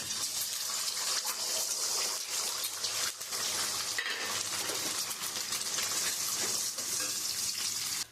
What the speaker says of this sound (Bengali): আমি কড়ার মধ্যে তেল দিয়ে দিয়েছি আমি ওই তেলের মধ্যে আমি যে ডিমটা রেখেছি এই ডিমটা আমি দিয়ে দেবো